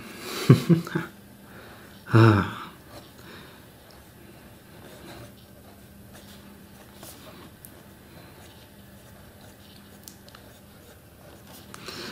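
A Stipula Passaporto fountain pen with a 0.9 stub nib scratches faintly across paper in a quiet room, with a couple of brief louder bumps near the start.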